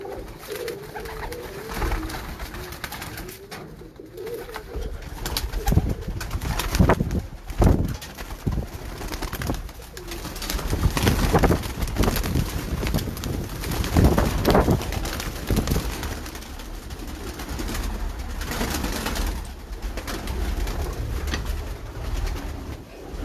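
Sialkoti pigeons at a Sialkot breeder's loft coo steadily throughout, layered over continuous busy background noise with occasional scuffling and wing movement.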